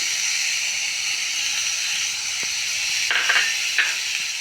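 Curry leaves, cumin and garlic sizzle in frying green tomato chutney, a steady close hiss with a few brief crackling bursts near the end and no talking.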